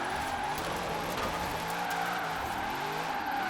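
A new Corvette drifting in Forza Horizon 4, its engine droning steadily with layered harmonics while tyres scrub and squeal underneath, loud and continuous with no voices.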